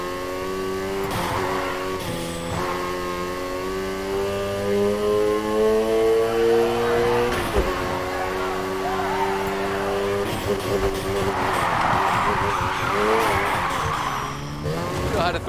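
Car drifting in Need for Speed Heat, with a high engine whine rising and falling through long gear-like sweeps and sustained tire squeal, loud and continuous, with occasional voice talk layered over it.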